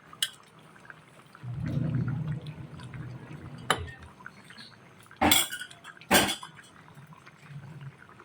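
Hotdog pieces stirred in a pan with butter while cooking chicken pastel: a soft sizzle, then a few loud clanks and scrapes of a utensil against the pan.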